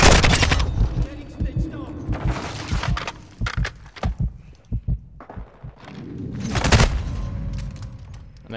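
Gunfire in Modern Warfare II: sharp, loud bursts of shots come in clusters with short pauses, some rapid automatic runs and heavier booms, close and punchy over game ambience.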